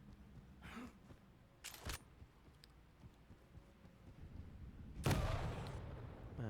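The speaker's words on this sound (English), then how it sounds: "Rocket jumping around here." Quake rocket-jumping in a one-on-one match: a few sharp explosive bursts, near and loud, stand out against a low, steady game background, with the last blast trailing off into a longer rumble.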